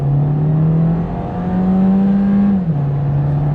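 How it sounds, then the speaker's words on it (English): A 2022 VW Jetta SE accelerating hard at full throttle, a loud steady engine drone that climbs in pitch, dips briefly at a shift, then settles into a lower pitch, with a faint turbo whir and no voices. "You can actually hear a little bit of turbo noise there too. Spinning up."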